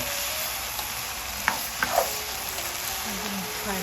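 Shrimp and vegetables stir-fried in a pan with Thai seasoning sauce give a loud, continuous hiss of frying, with a few quick clinks and scrapes as the food is stirred.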